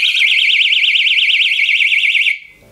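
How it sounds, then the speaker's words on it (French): A personal alarm keychain shrieks with a loud, piercing siren that warbles rapidly up and down, close and steady, then cuts off abruptly near the end. "dans le sens où c'est une alarme."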